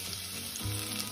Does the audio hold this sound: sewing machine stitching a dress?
no